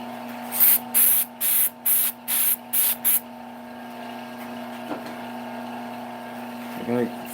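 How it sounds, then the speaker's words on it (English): An aerosol can of CA glue accelerator is sprayed in seven quick, close hissing bursts at a woodturning lathe, followed by a steady background hum. "I am running short on my spray."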